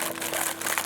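Excess cellophane wrap being cut away from a wooden box during a craft workshop: a short, close crinkling rustle of plastic film that lasts under a second.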